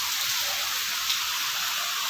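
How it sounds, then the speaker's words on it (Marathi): Steady rain falling outdoors in the monsoon season, a continuous even hiss of drops with no pauses or rises, heard alone at moderate loudness. "मस्त पडाला पाऊस"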